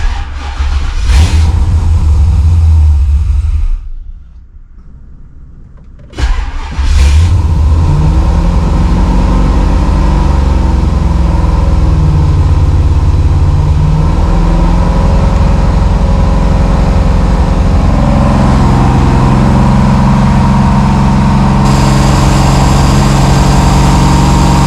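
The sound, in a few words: Holden VL Calais car engine with Harrop 2300 supercharger idling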